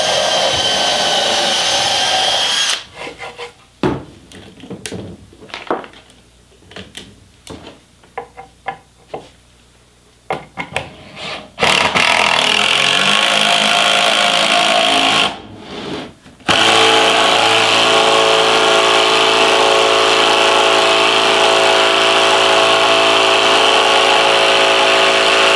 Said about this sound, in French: on va pré-percer à 4 déjà, ce sera déjà mon pré-perçage